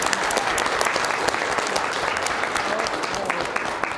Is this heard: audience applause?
yes